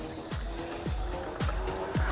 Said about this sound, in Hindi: ये चली भाई इसकी गाड़ी।